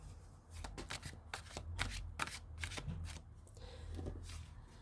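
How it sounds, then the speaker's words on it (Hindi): Tarot cards are shuffled and drawn from the deck at close range, with quick papery riffles and flicks in irregular bursts over a few seconds, quiet and alone. "तो नंबर 1 की रीडिंग के लिए कार्ड निकालेंगे।"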